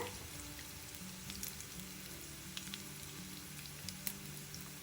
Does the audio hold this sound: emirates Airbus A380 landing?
no